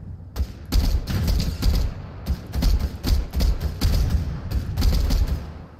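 Video game sniper gunfire, a rapid series of loud sharp shots in irregular bursts with short gaps, close and dominant with no talk.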